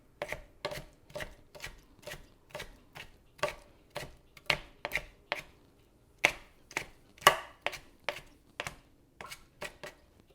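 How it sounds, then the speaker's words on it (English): A knife rough-chops ingredients for chicken salad on a cutting board, making crisp, close chops in an uneven rhythm of about two per second with brief pauses between runs. "Again, just rough chop, not too fine."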